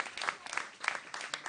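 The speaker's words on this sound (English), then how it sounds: "Give them a round of applause" Audience applause for volunteers at a town hall meeting, a short burst of scattered clapping from a modest crowd, fairly faint and somewhat distant.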